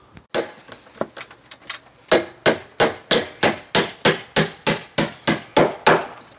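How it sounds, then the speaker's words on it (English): A hammer drives nails into a fascia board at the rafters, sharp repeated strikes in quick runs, starting as scattered taps and settling into a steady, loud, even rhythm. "And then he's gonna go back and start nailing everything."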